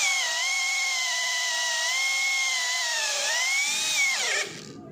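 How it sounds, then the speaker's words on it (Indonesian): An NRT Pro DC743 cordless brushless impact drill on high speed in drilling mode, fitted with a 12 mm wood bit and boring into 15 cm thick mahogany, gives a loud, steady, high-pitched motor whine that dips under load near the end, then cuts out abruptly. "saya akan mengebor dengan menggunakan mata bor kayu ukuran 12 mm"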